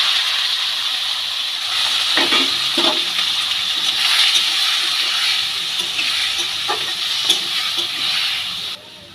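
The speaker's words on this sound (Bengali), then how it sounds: "টমেটোগুলোকে তেলের মধ্যে দিয়ে খুব ভালো করে নেড়ে চেড়ে নেব।" Chopped tomatoes sizzle and fry in hot oil with ginger for a Bengali tomato chutney, a steady close hiss with a few soft stirring knocks, no talking.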